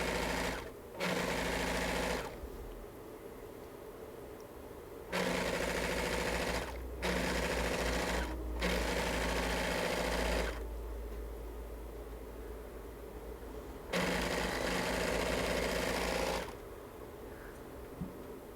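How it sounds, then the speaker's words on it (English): A serger runs along a pullover hoodie seam in several bursts of steady, loud mechanical whirring, with short pauses between runs and no talk. "So once again, running it through that serger first, and then I'm going to go ahead and top stitch it."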